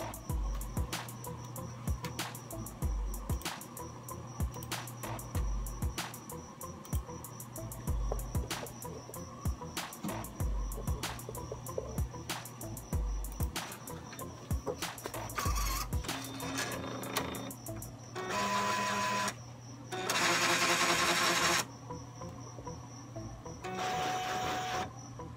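A modified eco solvent printer runs a head-cleaning cycle, steady mechanical humming with evenly spaced clicks and pump pulses, close and fairly quiet, followed near the end by a few longer bursts of whirring motor noise.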